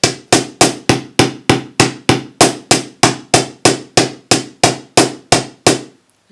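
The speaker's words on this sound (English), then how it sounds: "And you keep hammering it," A hammer pounds the end of a metal wire in a fast, even rhythm, each loud close blow ringing briefly before the next, stopping abruptly near the end.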